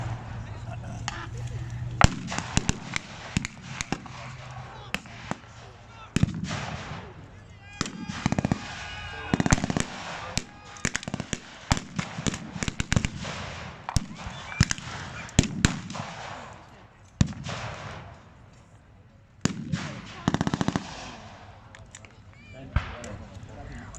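Battle reenactment at the Military Odyssey 2019 event, with heavy armour and rockets bombarding the opposition. Sharp cracks and booming blasts come in irregular bursts throughout, with a commentator's voice running over them.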